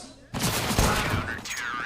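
Rapid SMG gunfire in a Counter-Strike match on the Mirage map, a dense burst of shots that starts abruptly and runs on steadily, with a shoutcaster's voice talking over it.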